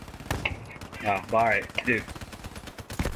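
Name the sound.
sniper rifle gunfire in video game Call of Duty Black Ops 3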